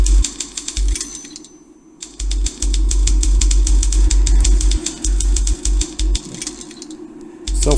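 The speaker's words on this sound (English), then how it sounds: "Self-typewriters are better than I thought in the 1800s." A self-typing typewriter in The Room Two video game clacks away in loud, rapid, mechanical bursts of keystrokes, pausing briefly before resuming its dense, ratcheting rhythm up close.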